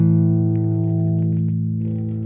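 A single electric guitar note rings through a Stellartone ToneStyler passive tone control, sustaining with rich harmonics and slowly decaying, with a few light pick or finger noises and no talking.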